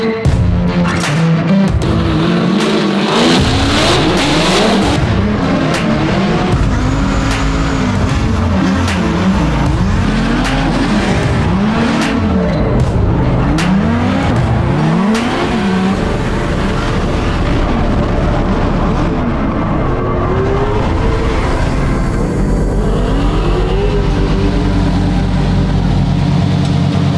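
A Formula Drift car drifts in competition, its engine roaring loud and continuous with rising and falling revs, tires squealing and skidding through repeated transitions, with crowd and track ambience behind it.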